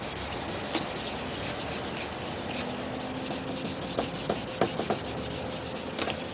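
A plastic car headlight lens is sanded by hand, giving a steady scratchy rubbing with short, rhythmic strokes and a few sharper scrapes toward the end, close and fairly quiet.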